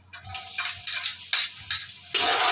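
Ground meat being sautéed in annatto oil in a pan for pansit malabon: a spatula scrapes and clatters against the pan in quick strokes over a soft sizzle, close and fairly loud.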